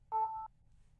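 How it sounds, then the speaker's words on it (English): Mobile phone notification, a single short, clean electronic beep heard alone against a quiet background. "I heard a sound. That was my phone"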